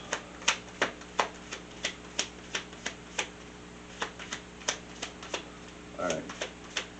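Tarot cards being shuffled by hand, a run of crisp light taps and riffling snaps in an uneven rhythm, close and fairly quiet, with a brief soft vocal murmur near the end.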